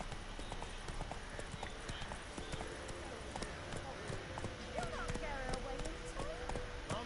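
Roach, a horse in a video game, trots along with a quick, steady clip-clop of hooves that stays fairly faint beneath a voice and background game sound.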